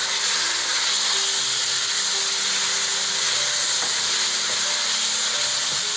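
Cumin seed tadka cooking for palak chicken curry, a loud steady hiss and sizzle of hot oil filling the whole stretch without pause or talk.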